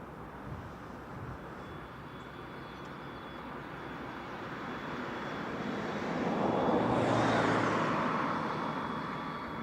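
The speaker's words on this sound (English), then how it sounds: "Dragon Lady has now landed, just making their way along the runway before they come to rest and then flop over onto one wing." A U-2 Dragon Lady spy plane rolls along the runway after landing, a distant broad jet rush that slowly swells louder toward the end, heard alone with no voices.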